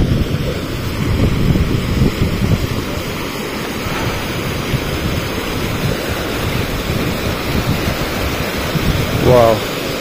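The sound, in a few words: mountain river stream flowing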